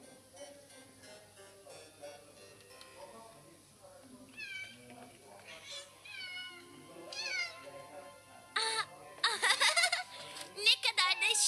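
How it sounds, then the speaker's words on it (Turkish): Cartoon cats meow over and over, growing louder and more insistent toward the end. Voices and light giggling mix in underneath. "Şu kediler yine mi?"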